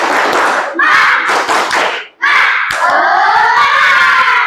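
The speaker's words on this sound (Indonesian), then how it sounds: "Tepuk semangat." A classroom group performs the 'tepuk semangat' clapping chant, with loud rhythmic hand claps mixed with many voices chanting together. The sound stays dense and energetic, with a brief pause partway through.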